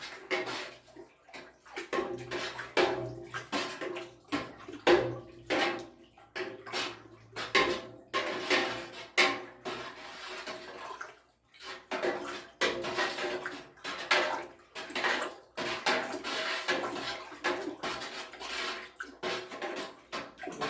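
A homemade cracked corn and barley mash, seven gallons, is stirred in a large pot, producing repeated sloshing, swishing water sounds in uneven bursts with occasional knocks against the vessel, fairly close and continuous.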